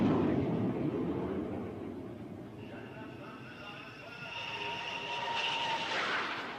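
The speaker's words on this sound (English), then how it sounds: "An around-the-clock all-weather bomber, the A-6 Intruder." An A-6 Intruder all-weather bomber flies past with a broad, roaring engine rush and a rising whine that swells toward the end, heard with a voice speaking over it.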